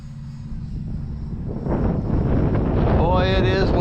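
Gusty wind buffets an outdoor microphone at an RC flying field, a low rumbling roar that grows stronger partway through, with a distant RC jet whine audible in the background.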